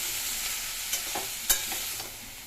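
Food is stirred and sautéed in a pan (kadai): a steady oil sizzle with a few sharp scrapes and knocks of a spatula against the metal, close up and with no talking.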